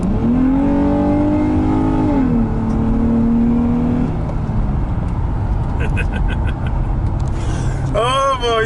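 An Infiniti G35 Coupe engine revs loud and close through its muffler, rising and falling in a couple of sustained pulls before settling to idle, then climbing again at the end.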